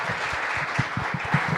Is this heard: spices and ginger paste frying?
no